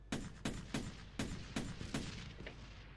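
Six or seven evenly spaced gunshots from Arma 3 crack out roughly every third of a second. The shots are moderately loud and trail off with a fainter final shot.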